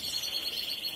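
Pet birds chirp in a steady, high-pitched twittering chorus that fills the space close by, with no talking.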